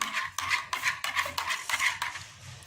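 A spoon stirs carrot juice with black salt, clinking repeatedly against the container in a quick, rhythmic series of close metallic taps.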